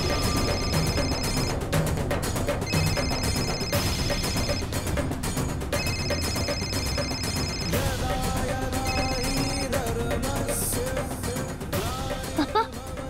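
A telephone rings insistently in a tense domestic drama scene, with repeated electronic ring bursts in a steady rhythm, loud and close, over background music and some talk.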